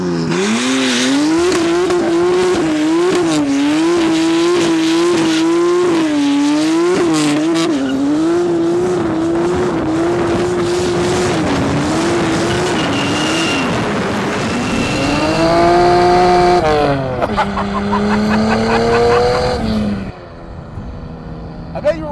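A 400-horsepower turbocharged BMW E30 squeals its tires hard, loud rising and falling wails of rubber over a revving engine that grows harsher near the end before cutting out, with talk in the background.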